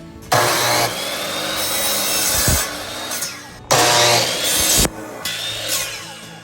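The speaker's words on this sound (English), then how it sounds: "let's go ahead and cut it into legs. So I cut 4 pieces of it." A long wooden spindle is sawn into legs with a power saw, loud whining cuts in several bursts with brief pauses and a clunk between pieces.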